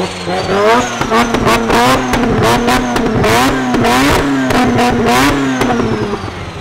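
A tuned Mazda RX-7 rotary engine on a dyno revs hard and continuously, loud and high-pitched, its pitch rising and falling in buzzy waves, close and roaring throughout.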